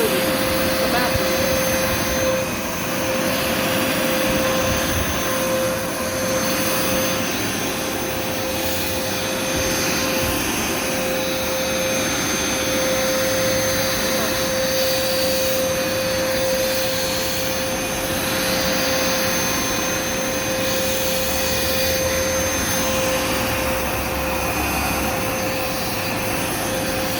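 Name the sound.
Hoover Smartwash carpet washer running on carpet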